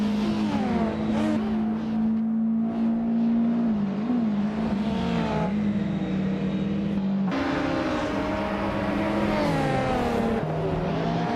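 Porsche 928 GTS race car engines roar in a racing video game, a loud sustained drone with steady pitch, shifting gears and other cars layered in, running continuously and alone without talk.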